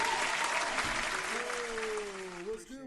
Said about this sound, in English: We gotta have the people in the back clap it up